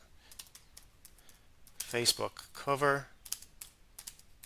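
Typing on a computer keyboard while searching a website, heard as faint, scattered key clicks throughout, with a voice speaking briefly in the middle.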